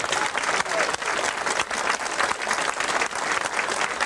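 A crowd applauds loudly and steadily at a ceremony inducting a new knight companion, dense clapping filling the space throughout without a break.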